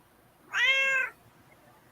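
A single clear cat meow, about half a second long, close by in an otherwise quiet room.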